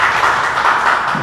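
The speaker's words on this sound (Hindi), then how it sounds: "तो अरशद भाई के लिए तालियां ज़रूर होनी चाहिए" An audience at a press conference gives a short burst of dense applause, many hands clapping loudly and close, with no voices.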